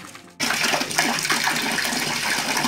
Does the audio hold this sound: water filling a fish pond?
yes